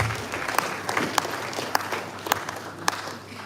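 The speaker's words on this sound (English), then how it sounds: "Can we give the Vice Chancellor a big round of applause?" A university audience at an annual lecture and postgraduate conference applauds a Vice Chancellor. The clapping is fairly quiet and somewhat distant, with a few sharper individual claps standing out above a soft, scattered patter.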